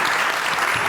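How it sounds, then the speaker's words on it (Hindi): A studio audience at a television entertainment show claps in a dense, steady burst of applause that fills the whole brief moment at an even loudness. "इनके सपोर्टर्स के लिए एक दफ़ा तालियां बजाइए"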